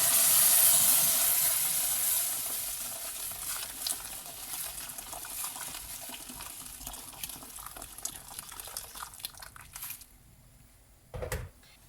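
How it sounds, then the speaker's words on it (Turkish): Hot water is poured into a pot of green lentils and melted butter, a loud rushing hiss that gradually thins out, then a pause and a brief clunk near the end. "şimdi içine 1 litre sıcak suyumu da ekliyorum"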